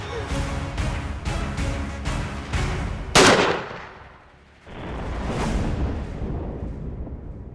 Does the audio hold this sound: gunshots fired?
yes